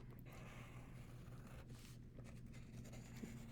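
A design being traced by pressing hard through paper onto thin metal foil, a soft continuous scraping and rubbing with brief louder strokes, close and quiet with no talk.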